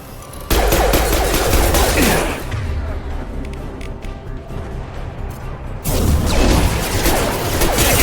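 Dense, loud sustained gunfire in the Mass Effect 2 video game, with rapid overlapping shots and bursts. The fire eases briefly in the middle, then returns at full intensity.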